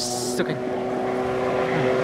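A Yamaha JPR1300R personal watercraft engine drones steadily while a short burst of hissing water spray rushes past at the start, then settles into a constant motor hum.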